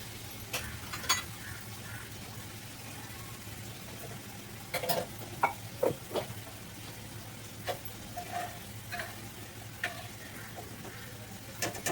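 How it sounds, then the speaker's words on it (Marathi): Tomatoes fry in a pan in a home kitchen, a low steady sizzle under scattered clinks and scrapes of stirring that come in small clusters, soft and close. "थोडे फ्राय होऊन द्यायचे"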